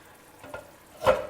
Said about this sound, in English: our mixed vegetable gravy has been simmering well, reached the perfect consistency